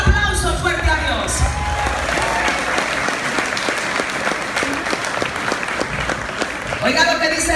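A church congregation gives loud, sustained applause, with dense clapping and some cheering throughout, and a voice speaking over it at the start and end.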